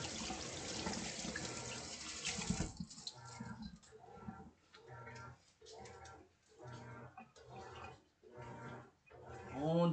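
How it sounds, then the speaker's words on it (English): Hands washed with soap under a running kitchen tap, a loud gush of water at first, then rhythmic rubbing and splashing sounds under the stream, with no one talking. "Puis je me lave les mains avec du savon."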